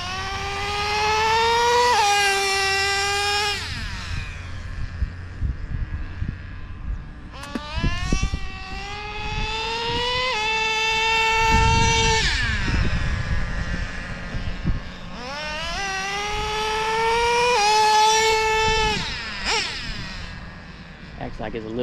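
A nitro RC car engine, a Traxxas, revs hard in repeated bursts, its high whining pitch climbing and dropping with each throttle pull, loud and close.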